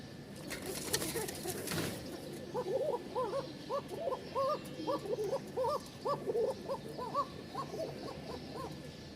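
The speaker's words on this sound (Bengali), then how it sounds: "এটা নর আর এটা হচ্ছে মাদি, দুইটারই একদম ফাটাফাটি ডাক" A male and a female pigeon coo back and forth close by in a rapid, steady series of soft rounded calls. A sharp burst of handling noise comes first, just before the calling begins.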